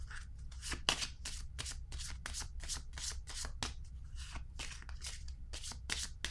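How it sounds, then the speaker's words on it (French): Tarot cards handled and laid down on a table during a reading, a steady run of quick papery flicks and slaps in close succession, soft and near with no talk. "Je vais déposer une carte ici."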